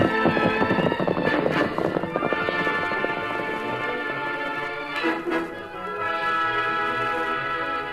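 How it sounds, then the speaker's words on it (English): Galloping hoofbeats in an old western radio drama, a rapid drumming clatter of horses running together under a swelling orchestral score, steady and fairly loud throughout. "The paint horse is running right with him."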